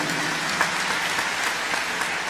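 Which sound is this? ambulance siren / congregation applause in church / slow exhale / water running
congregation applause in church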